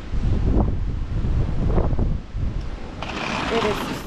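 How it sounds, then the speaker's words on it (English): Strong gusts of a Wyoming blizzard buffet the microphone in heavy, low roaring bursts, easing briefly before a steadier hissing wind takes over. "It is super windy."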